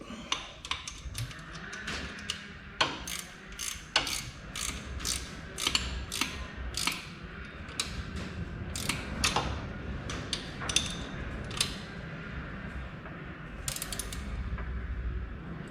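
A ratchet tightening bolts on an engine, giving a steady run of sharp close clicking strokes with brief pauses between them over low mechanical background noise, no talking.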